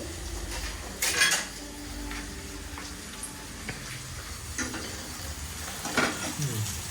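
Pasta sauce in a pan being flipped with a spatula, with soft sizzling and several sharp metallic scrapes and clinks of utensil against pan, close and fairly loud, no talking.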